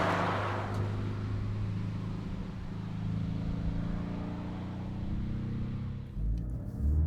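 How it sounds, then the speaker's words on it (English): Porsche Cayman engine heard from inside the cabin, a steady mechanical hum and drone with low rumbling tones that hold evenly throughout, with no throaty exhaust note and no talking. "It's more just a mechanical sound that you hear inside the cabin."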